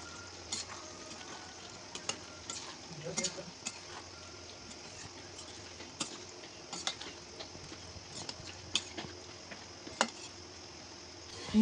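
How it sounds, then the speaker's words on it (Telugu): A spoon stirs fried paneer pieces through a simmering curry in a pan, soft repeated scrapes and taps over a low, quiet sizzle, with no talking. "వేగిన పన్నీర్ ముక్కలు వేసి కలపండి."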